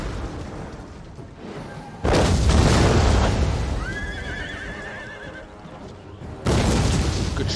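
A Total War Attila battle: heavy booming impacts from an archer volley and artillery land in two loud bursts, with a horse whinnying between them over a constant din.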